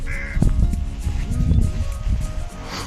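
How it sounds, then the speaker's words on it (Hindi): Crows call amid a snowy trail shelter on the Khaliya Top trek near Munsiyari, with several rough caws and cackles scattered over wind and movement noise, fairly close and loud. "कौवा कितने मजे ले रहे हैं, बढ़िया बर्फ ही बर्फ में।"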